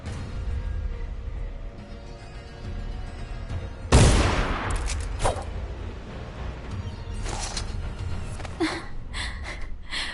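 Pistol shots in the stealth-action video game Dishonored: one loud, sharp blast near the middle, then several fainter cracks and clatters over steady in-game background noise.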